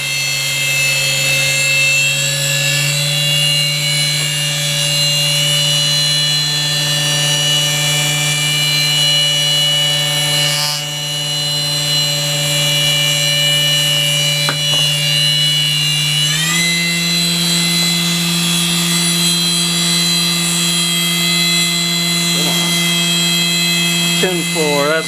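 A PCB-milling spindle motor runs at roughly 10,500 RPM as a loud, steady whine with layered tones, shifting to a slightly higher pitch partway through as the speed is adjusted.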